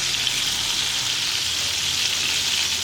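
Tomatoes sizzle steadily in hot oil over a medium flame while cooking down for chutney, a continuous close, bright frying hiss with no voices.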